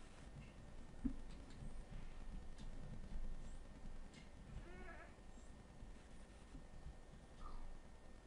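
A Minecraft goat gives a couple of short, faint bleats, one midway and one near the end, over a quiet, low background hum without speech.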